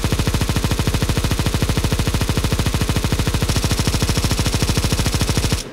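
A Negev machine gun in a video game fires one long, unbroken stream of very rapid, evenly spaced shots. It is loud and close, with no talking, and stops abruptly at the end.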